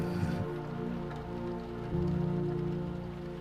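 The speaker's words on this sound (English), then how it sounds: "the sound of dripping rain can be heard coming through in several sections." Rain drips steadily inside a ruined chapel, a soft continuous patter over a low sustained drone.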